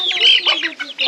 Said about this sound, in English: Have a bit of chickens in here